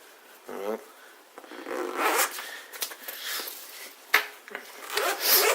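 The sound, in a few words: opening a heavy-duty zipper on a survival kit bag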